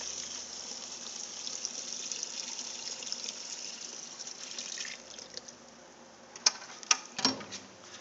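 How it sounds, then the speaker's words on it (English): Used solvent pouring into the chamber of a BECCA solvent recycler, a steady faint trickle and splash of liquid that fades out midway, followed by a few sharp clinks near the end. "simply pour the solvent to be recycled directly into the chamber"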